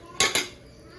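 A metal spoon clinks twice against a pot while tomato buttermilk curry is stirred on the stove, two sharp close knocks followed by quiet kitchen background.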